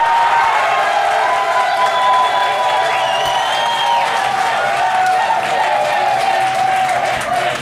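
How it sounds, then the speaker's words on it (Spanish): Studio audience applauding and cheering on a reality competition show, a steady dense wash of clapping and crowd noise with whoops and musical tones layered over it, loud and continuous. "Aplausos para Dani Dali."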